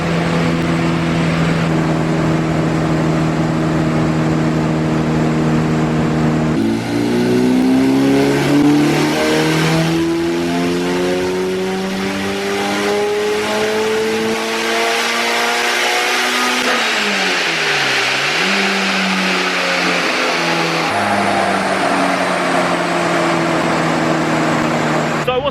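A Mitsubishi Evo 7 engine on a dyno during mapping revs loudly and continuously, its pitch climbing in long sweeps, dropping, then rising again through a turbocharged run.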